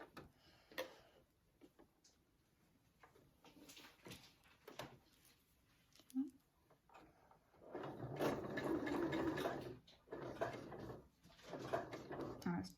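A sewing machine stitches piping onto a cushion in short stop-start runs around a corner, quiet and close, building to a longer steady whirring stretch near the end amid soft handling noises.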